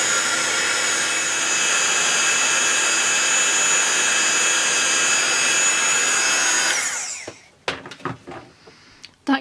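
A heat gun blows hot air over embossing powder on a small block, giving a loud steady whooshing roar for about seven seconds before it switches off, followed by a few faint clicks and handling noises.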